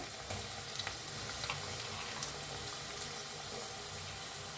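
Onion and tomato are stir-fried in a pan with a constant close sizzle. Faint scrapes of stirring come through, and no one speaks.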